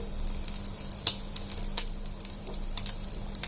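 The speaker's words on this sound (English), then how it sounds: "Fry it until it turns golden brown color." Prawn balls fry in hot oil, giving a steady close sizzle broken by scattered small pops and crackles, with no voices.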